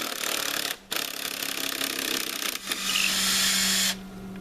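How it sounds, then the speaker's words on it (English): An impact driver runs screws into a plastic chicken water barrel under repair, giving loud sustained rattling bursts with two brief pauses between drives and a sudden stop near the end, close up with no talking. "Got to be an impactor, and it ought to be one of the higher end impactors with the metal front."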